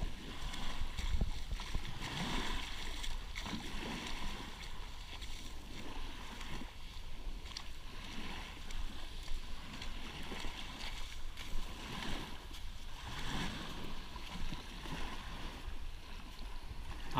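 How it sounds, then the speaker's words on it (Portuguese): Small waves wash gently onto a beach at São Pedro da Aldeia in a soft, continuous, faint hiss of water with occasional swells, and no talk. "foquem no barulho das ondas, ó."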